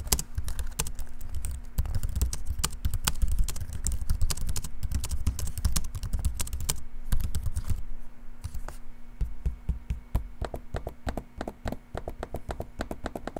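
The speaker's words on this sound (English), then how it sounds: "here's a quick audio sample of me using the keyboard and trackpad so you can hear what it sounds like" Keyboard and trackpad of a Gigabyte Aero 16 OLED laptop in use, close and clear: rapid, uneven bursts of soft key clicks, then sparser individual taps and clicks toward the end, with no talking.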